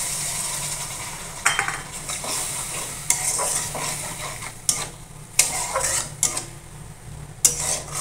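Ginger, garlic and cinnamon paste fries and sizzles in a pan for a Ghuguni curry, with a steady hiss broken by several loud scrapes and clanks of a spoon stirring against the metal.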